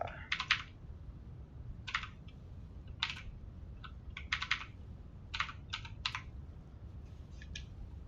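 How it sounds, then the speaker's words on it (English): A computer keyboard typed in short quick bursts to enter cheat codes in GTA San Andreas, several clusters of crisp clicks separated by brief pauses, close and fairly quiet. "Let's type it in a few times."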